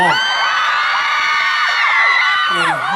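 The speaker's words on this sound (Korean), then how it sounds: "큰 박수를 맞이해 주시고요" Loud, high-pitched screaming and whooping from a crowd of fans at a fringe performance during a ground forces military festival, sustained and close throughout, with a few shouts sliding up and down near the end.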